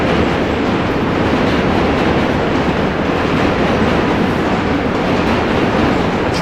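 A subway train crosses the Manhattan Bridge in New York City, a loud, continuous roar of wheels and rattling cars with steady clickety-clack, heard alone without voices.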